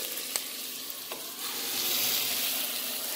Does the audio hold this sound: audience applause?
no